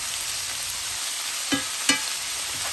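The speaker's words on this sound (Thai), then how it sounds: "แล้วก็มาคั่วให้ซีนเฮาสุกเนาะ คั่วให้ซีนเฮาสุก" Meat for Lao fried noodles stir-frying in a hot pan, a steady broadband sizzle with two brief scraping clinks of the utensil near the end.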